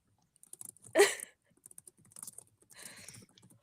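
Scattered clicks of typing on a computer keyboard, soft and irregular, with a louder knock partway through and a faint voice in the background.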